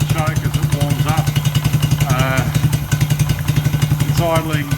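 A Suzuki Quad Runner ATV engine idles on choke while warming up, idle screw turned up, a fast even putter close by with someone talking over it in short bursts.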